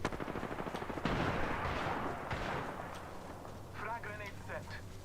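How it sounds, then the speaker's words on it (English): Gunfire rattles in a multiplayer video game, with rapid bursts and dense noisy impacts under in-game voice callouts, fading to quieter effects toward the end. "Shots fired at me."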